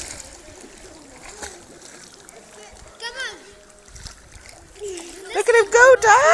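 A young boy swims in a pool without armbands, with splashing bursts building toward the end, loudest in the last second or two, while an adult voice talks and encourages him throughout.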